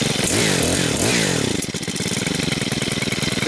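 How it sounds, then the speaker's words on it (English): A STIHL KM 130R multi-tool's small two-stroke engine idles close by, a loud, steady buzzing putter with a brief rise in pitch at the start before settling into an even rhythm. "So you can see it idles along really nicely."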